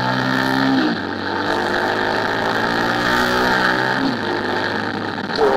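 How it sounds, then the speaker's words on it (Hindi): A motorbike's steady engine drone runs throughout, with pitch shifts as it changes speed, loud and close as heard while riding at night in Faisalabad. "बाइक की आवाज़ आपको आ रही होगी कि नहीं।"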